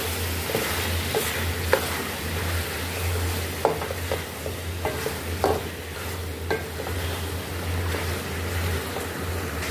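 Chopped tomatoes being stirred into chicken karahi frying in a pan, a steady sizzle with repeated scraping strokes of the spoon, close and alone without talk.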